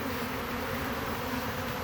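A swarm of honey bees moving in on an established hive makes a steady, dense buzzing drone, close and continuous with no voices.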